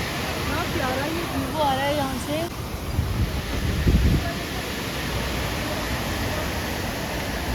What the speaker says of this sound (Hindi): यहाँ पर बहते हुए पानी का शोर इतना ज्यादा था